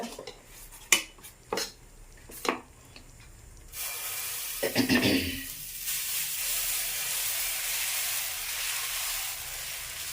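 Dosa batter poured onto a hot pan, a few sharp metallic clinks of cookware followed by a sudden sustained sizzle that swells and then settles into a steady hiss.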